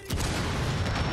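A breaching charge in Rainbow Six Siege goes off with a sudden loud blast, followed by a sustained rumbling roar and debris noise that stays heavy for about a second.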